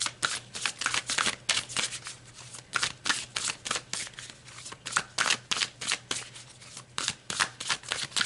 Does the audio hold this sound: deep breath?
no